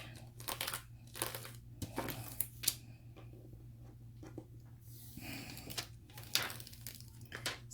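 A rhinestone transfer sheet being peeled back while making Starbucks rhinestone cups, giving close, quiet crinkling and crackling bursts in irregular clusters separated by brief pauses.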